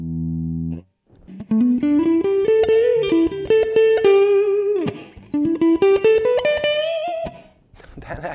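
Electric guitar through a Donner Cyclops modeling mini amp on a clean setting with reverb, playing rising melodic phrases of picked notes that ring out with a reverb tail, loud and alone.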